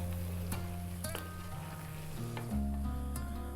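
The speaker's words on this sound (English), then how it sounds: "We're going to give that a mix" A spoon stirs potato mushroom curry in a pan with the heat just turned off, a soft continuous sizzle and scraping under steady low hum, close and fairly quiet.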